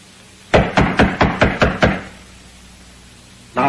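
Loud knocking on a door, a quick run of seven sharp raps in steady rhythm, followed by a pause and the start of another knock at the end.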